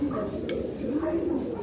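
A black young racing pigeon coos in a loft, a low soft burbling call heard close over steady background noise.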